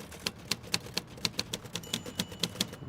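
Typewriter keys strike in a steady, evenly spaced rhythm of about four sharp clacks per second, close and fairly loud with no voices.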